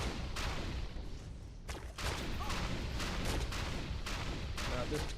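A mob cannon in the game Defiance fires a rapid, continuous barrage of heavy booming blasts, dense and loud throughout with brief gaps between bursts.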